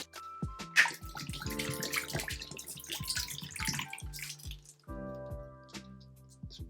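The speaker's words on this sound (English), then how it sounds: "let's go for round 2 of washing" A plastic shaker bottle is washed under running water from a tap, with splashing, dripping and sloshing bursts, a brief pause, then a steadier stream nearby.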